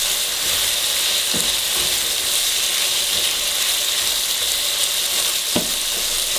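Jambalaya in a pot, sizzling loudly with freshly added Worcestershire sauce, a constant frying hiss punctuated by a few spoon scrapes as it gets mixed, with no speech.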